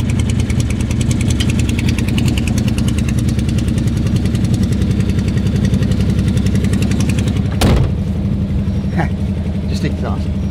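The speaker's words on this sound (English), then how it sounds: "Exhaust trying to let go." A Ferrari 812 Superfast being test driven drones with a loud, steady engine roar and a rattling exhaust that is working loose, with a brief knock near the end and people talking over it.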